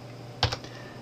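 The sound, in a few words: pressing keys on a computer keyboard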